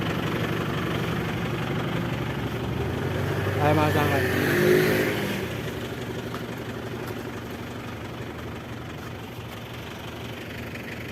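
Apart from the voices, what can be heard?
van engine idling after being started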